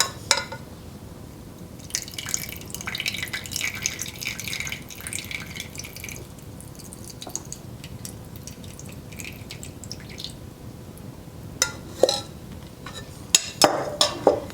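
Elderflower champagne residue trickles and drips close by, with small splashes and a few sharp clinks against a container near the end.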